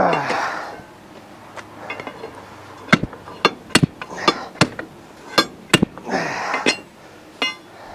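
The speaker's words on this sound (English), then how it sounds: "Slide hammer." A slide hammer striking as it pulls on a truck rim, a series of sharp metallic clanks in irregular bursts, some doubled, close and loud over a quieter background of scraping and shuffling.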